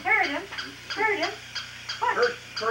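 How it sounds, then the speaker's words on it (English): A dog jumps up on a person, letting out repeated high whimpering yelps in short bursts, close and fairly loud, with excited voices talking over it. "Look at this dog. He's jumping right up on Jesse"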